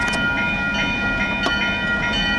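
A CN freight train passing with locomotive 4790 leading, a loud continuous rumble of rolling cars with steady tonal engine hum and faint rhythmic clicking of wheels, close by, no voices.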